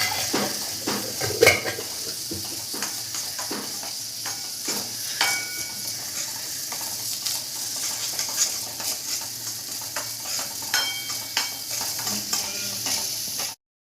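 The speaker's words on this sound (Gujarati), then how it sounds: "ઘી જાય છે અને હવે એને શેકવાની શરૂઆત કરશે" Semolina for sheera roasting in ghee in a pan, a steady close sizzle with a spoon scraping and stirring against the metal, occasional louder clinks, no talking.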